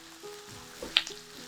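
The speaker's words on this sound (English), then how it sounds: "those onions are smelling good. They are, and they're sizzling away." Chopped onions sizzling in a hot pan while a weed soup is cooked, a soft continuous frying hiss with a few brief louder crackles and pops near the middle.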